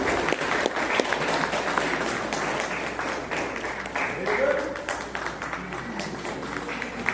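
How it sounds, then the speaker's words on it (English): A crowd at a kayaking challenge prize ceremony claps for the sprint race runner-up, sustained applause filling the whole stretch while an announcer's voice carries over it. "Please welcome him with a huge round of applause."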